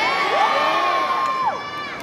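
Street-performance crowd at Covent Garden in London cheering and whooping, a dense sustained roar of many voices with rising shouts, loud and close, with little sign of clapping.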